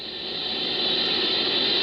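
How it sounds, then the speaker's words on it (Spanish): Steady broadband hiss of static interference picked up by a horn antenna, loud and even for under two seconds before cutting off abruptly, with no other sound. "Pero la Horn Antenna que utilizan recibe constantes interferencias."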